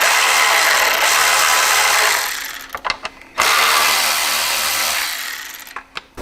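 A power driver spinning out screws from a 6x9 speaker lid cup, with two long, loud, steady whirring runs separated by brief pauses and small clicks, heard close up without talk.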